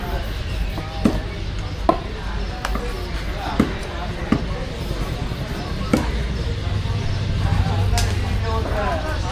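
A fish at a busy fish market is cut into pieces with a series of sharp, loud chopping thuds at irregular intervals, heard over constant market noise and nearby voices.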